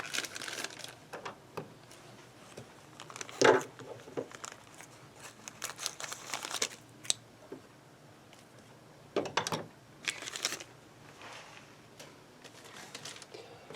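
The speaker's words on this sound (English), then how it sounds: "I'm going to cut this pack of strings open." Scissors snip and crinkle through a plastic pack of guitar strings at a workbench, giving irregular soft cuts and rustles close by with a few sharper bursts, at low volume.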